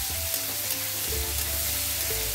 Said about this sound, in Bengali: দিয়ে এটাকে ভালো করে নাড়াচাড়া করে ভেজে নেব